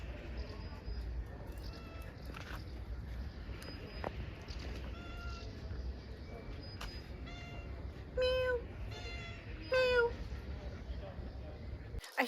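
A cat meows a few times outdoors while roaming free, with two clear, drawn-out meows near the end, over quiet outdoor background noise.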